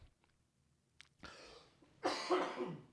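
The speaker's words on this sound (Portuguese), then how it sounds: "Ai, eu tô tossindo muito." A few faint throat sounds, then two harsh coughs in quick succession, close and fairly loud.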